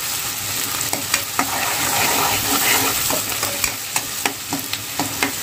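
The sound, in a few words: onion and curry leaves frying in pan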